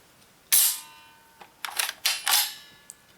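An Ares SR25 airsoft rifle bolt release slamming home, one sharp metallic clang followed by a few lighter mechanical clicks and rattles, close up with no speech.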